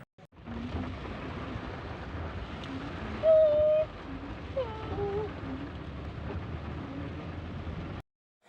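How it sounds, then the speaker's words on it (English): Heavy rain with a thunderstorm, heard from inside a car in heavy traffic: a steady, dense roar of rainfall lasting the whole stretch, with a few faint higher squeaks passing over it and no clear separate thunderclap. "it started to rain heavily with thunderstorms"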